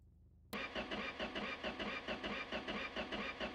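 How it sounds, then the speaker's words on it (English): An engine in the video game My Garage cranks and fires after a moment of silence, then runs in a rough, loud, uneven idle with a pulsing rhythm. "Okay, it does start, but it sounds horrible."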